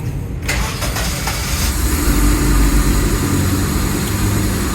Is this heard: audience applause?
no